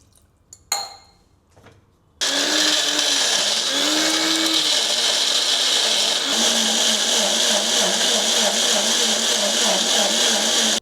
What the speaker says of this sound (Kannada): ಬ್ಲೆಂಡರಿಗೆ ಹಾಕೊಂಬ.